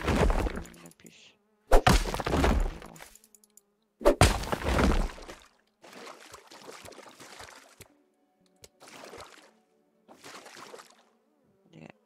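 Gnats buzz in the video game Grounded, a thin insect drone coming in short bursts and pauses, with heavier thuds and knocks breaking in near the start.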